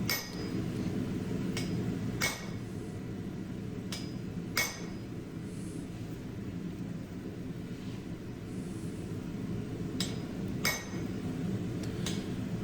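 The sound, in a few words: hammering hot steel to slit drift an axe eye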